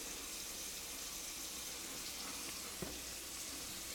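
A home sink tap running in a quiet house during an inspection, a faint steady hiss of water with a single brief knock near the end and no talking.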